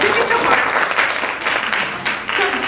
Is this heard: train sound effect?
no